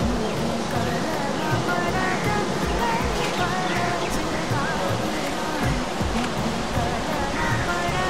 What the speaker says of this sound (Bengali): সমুদ্রটা দেখুন শুধু এখান থেকে